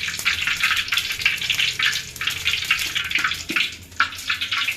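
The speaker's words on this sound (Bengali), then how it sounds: "তো এখন হচ্ছে আমরা পেঁয়াজু ভাজবো" Piyaju, onion fritters, frying in hot oil in a wok: a steady, dense sizzle and hiss that swells and dips without pause, close and fairly loud, with no voices.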